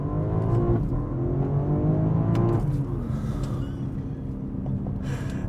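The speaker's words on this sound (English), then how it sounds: "that S58 screams, people. It's got so much power." BMW X3 M with the 503-horsepower S58 engine accelerates hard in Sport Plus with quick gear changes, a loud, rising rev that drops briefly at a shift before climbing again.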